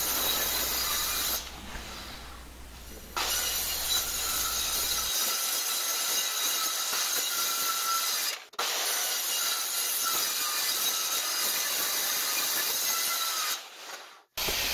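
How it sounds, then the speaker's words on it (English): A chop saw cutting a slight angle into the top of a wooden corner post for a cold frame, a loud sustained whine broken by brief pauses, with the blade spinning down at the end. "We are using the chop saw to cut a slight angle on the top of the corner post so that it matches the sides"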